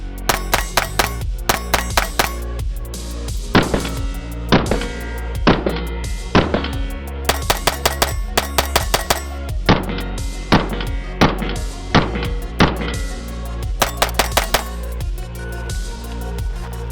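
A BUL Tactical ported 5 pistol fires Norma rounds in quick strings of sharp, loud cracks, several bursts of shots separated by brief pauses, heard close at an outdoor range.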